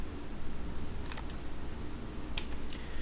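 Mouse clicks while adjusting page transition settings in an Elementor website editor, a few sharp close clicks over a quiet room hum.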